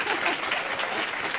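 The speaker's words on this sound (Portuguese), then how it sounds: "Carol, e palmas para ela" Dense, steady applause from a studio audience for a guest on a Brazilian TV debate show about school bullying, continuous clapping throughout.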